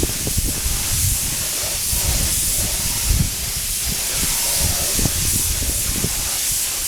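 A paint spray gun set to about 50 psi sprays pearl paint onto Yamaha FZ600 motorcycle parts, giving a loud, continuous airy hiss that holds steady for several seconds with slight pulsing.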